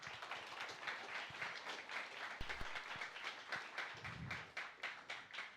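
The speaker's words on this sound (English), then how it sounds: "Can I please ask you to give a warm applause to all of us?" Steady, moderately distant audience applause at a live-streamed AI technology conference venue, continuous clapping with a few louder individual claps.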